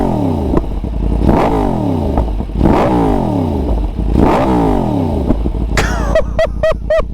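A Yamaha MT10 gen 2 with an Akrapovic exhaust revs hard in repeated rising bursts with falling tails, then ends in a rapid string of sharp pops and crackles, loud and close.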